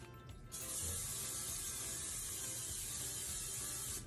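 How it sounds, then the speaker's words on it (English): A steady, loud aerosol hiss from a cooking oil spray can starts abruptly after a brief pause and continues unbroken for several seconds before cutting off near the end. "I'm gonna do like a heavy spray"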